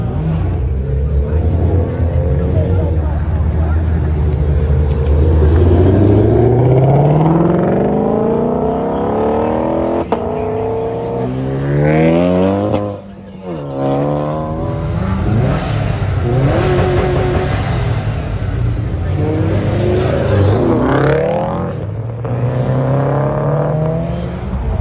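Cars revving and accelerating hard as they leave a large car meet, loud close engine roars rising and falling in several overlapping passes, with a brief dip before more drivers rev past.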